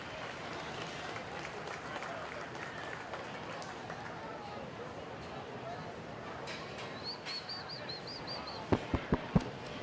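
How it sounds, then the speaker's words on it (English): Applause rises from the audience for exhibitors at a 4-H market swine show, a steady faint wash of clapping under crowd murmur, with a few sharp, loud knocks near the end. "If you would please give those guys a nice round of applause"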